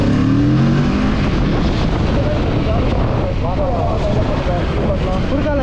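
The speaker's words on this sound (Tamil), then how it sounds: "எப்பவுமே இந்த பைபாஸில் இவ்வளோ டிராஃபிக்லாம் இருக்காதேடா." Heavy road traffic on a bypass, a steady loud roar of passing vehicles and engine drone heard from close by, with people talking over it throughout.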